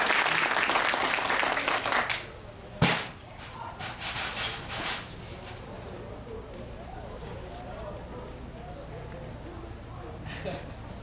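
An audience applauds a volunteer at a magic-style stage show, a burst of clapping that fades after about two seconds, followed by a sharp clink, a few scattered claps and quieter room noise.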